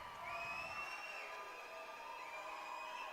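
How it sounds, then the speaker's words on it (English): A large crowd at an Elmhurst College ice hockey game cheers and roars steadily, with whistles and shouts rising above the sustained din. "The Elmhurst crowd making some noise."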